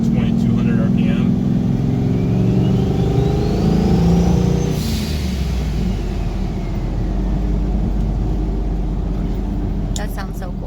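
Ford truck with a turbocharged EFI 460 engine accelerating, a steady loud mid-range engine drone with rising whine from inside the cab, under continuous road noise and passing into a lower cruising hum.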